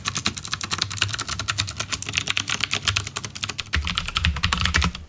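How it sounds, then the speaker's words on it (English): Rapid pitter-patter of keystrokes on a mechanical computer keyboard, steady fast typing heard up close with clacky switch sounds throughout and no talking. "This is the sound of a keyboard."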